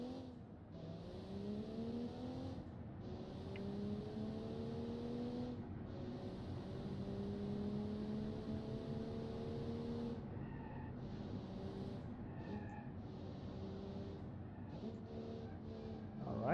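Simulated car engine in a driving video game, around 332 horsepower, revving in long rising and falling tonal sweeps as gears change, mid-level and steady with no speech over it.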